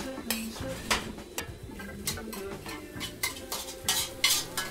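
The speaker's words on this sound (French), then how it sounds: "Mes légumes, je viens balancer dedans" Vegetables tossed into a warmed serving dish, a series of close clinks, scrapes and soft clatters of utensil against dish with a faint sizzle in the background, no talking.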